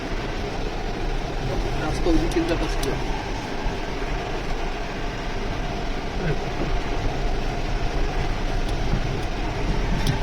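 A car creeps slowly along a rough, broken rural road near Belpahari in Jhargram, its steady engine and tyre rumble filling the whole stretch with an even, bumpy drone and no clear breaks.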